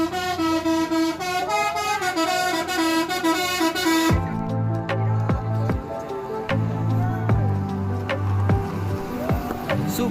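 Musical telolet horns on Basuri tour buses on a trip to Wayang Windu ring out in loud melodic phrases of several notes that shift pitch and repeat without a pause.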